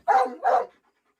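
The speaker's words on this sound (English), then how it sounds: "Do you think barking's going to make a difference?" A dog gives two quick barks close by in a quiet outdoor yard, then falls silent.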